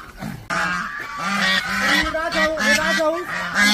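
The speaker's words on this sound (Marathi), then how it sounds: "टर्की पक्षी." Repeated honking, gobbling calls from a flock of turkeys on a poultry farm, loud and close, overlapping in a steady rhythmic series.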